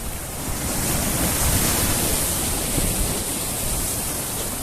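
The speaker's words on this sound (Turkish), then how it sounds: "Dehşet bir dalga var." Sea waves crash and wash onto the shore during shore fishing, a loud, steady roar of surf that fills the whole clip with no voices.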